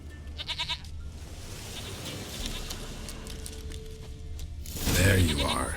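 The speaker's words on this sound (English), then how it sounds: "Here, goat." A goat bleats in The Witcher 3, its short wavering cries standing out over a low game ambience, with a louder burst near the end.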